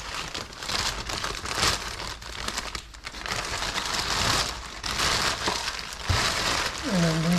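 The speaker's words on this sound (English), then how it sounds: "I'm going to put this into a plastic bag." Crinkling plastic bag as a bread tin holding spelt dough with roasted almonds and sultanas is slid inside, loud close rustling and crumpling throughout with a faint voice near the end.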